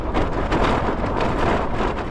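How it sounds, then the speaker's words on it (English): Strong wind batters a Hilleberg Soulo tent during solo wild camping in the Lake District, a loud, constant roaring rush of gusts and flapping fabric with no voices. "It's the pressure of the wind's pushing against my back."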